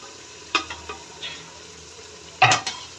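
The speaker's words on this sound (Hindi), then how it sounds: "अब हम इसके अंदर इसको हम अच्छे से हिला लेते हैं" Chicken with ground coriander and spices stirred in a pot for aloo chicken, quiet sizzling broken by a few short scrapes and metallic clinks of the spoon against the pot.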